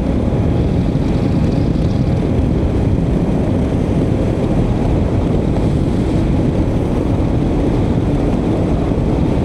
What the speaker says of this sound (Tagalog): Sana wala masyadong hangin. Kasi ano, malakas yung hangin eh.